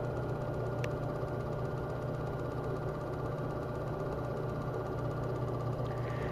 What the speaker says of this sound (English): That is the air being drawn out of it.